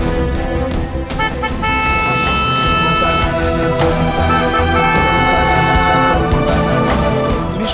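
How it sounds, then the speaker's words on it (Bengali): A car horn honks and toots repeatedly along a busy street as a car passes, loud and continuous with dense traffic noise throughout. "তুমি সরে এসো, গাড়িটাকে যেতে দাও।"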